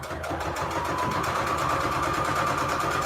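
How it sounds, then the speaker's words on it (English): A sewing machine runs steadily at close range, stitching shabby chic fabric onto receipt paper in a continuous, even, rapid mechanical chatter for three seconds with no pause. "we'll sew this receipt back together at the same time"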